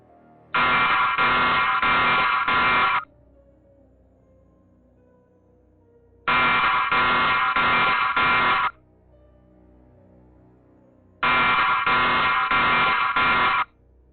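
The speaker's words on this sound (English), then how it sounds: "footage from a home security system that began with the blaring sound of an alarm" A home security system alarm blares in three loud, harsh bursts, each a rapid series of four or five buzzing pulses lasting about two seconds, separated by quiet gaps of several seconds.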